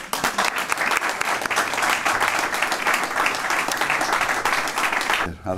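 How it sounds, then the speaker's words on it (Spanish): A crowd at an election campaign event gives loud, continuous applause for a mayoral candidate, a steady dense clapping that runs for over five seconds before stopping abruptly. "pido un gran aplauso para nuestro próximo alcalde, Rafa Eraso"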